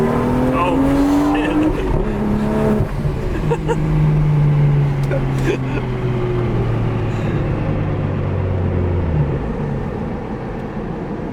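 A Toyota Supra with a downpipe accelerates hard, its engine note climbing through the gears with shifts, heard loud from inside the cabin while passengers talk.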